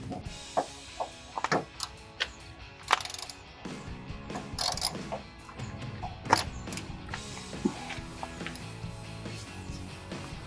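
A socket and breaker bar loosen a bolt on a Jeep Wrangler TJ tailgate, producing repeated close ratcheting clicks and metallic clunks in uneven bursts, with some creaking between them.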